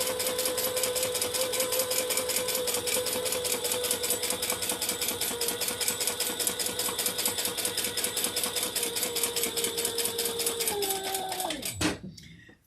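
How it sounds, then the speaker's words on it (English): A sewing machine top stitches a garment in a steady, rapid needle rhythm that runs loud and continuous, then slows and stops abruptly near the end. "Okay, now we're going to top stitch."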